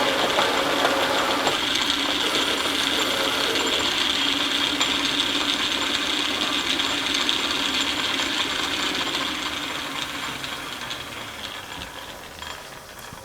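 A metal lathe cuts a Morse taper for a tailstock die holder, with the compound set for a heavy 80-thousandths cut. A steady, loud grinding whine with a bright metallic scrape runs throughout and eases off slightly near the end.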